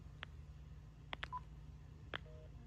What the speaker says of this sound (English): Now we can also dial a number just like any ordinary telephone.